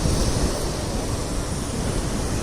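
Steady roar of high sea surf washing onto a beach at night, continuous and fairly loud with no clear breaks between waves, and no voices.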